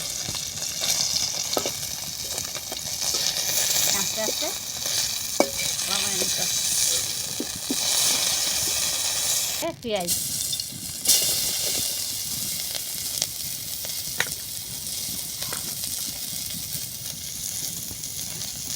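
Onions fry in hot oil until browned, giving a continuous close sizzle with occasional stirring scrapes and clinks, and a few muffled voices under it.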